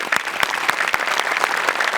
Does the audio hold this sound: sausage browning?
no